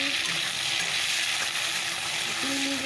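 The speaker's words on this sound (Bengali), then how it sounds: "চলো এটাকে একটু ভালো করে ভেজে নিই" Chopped onion and tomato fry in a pan with a loud, steady, close hiss of sizzling oil that holds constant throughout.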